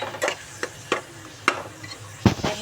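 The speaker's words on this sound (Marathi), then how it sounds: "बघा थोडासा फ्राय करून घ्यायचा खिमा" Keema (minced meat) frying in a pan with onion and tomato, a soft continuous sizzle punctuated by about five distinct scraping spatula strokes in an uneven rhythm, close and fairly loud, with no speech.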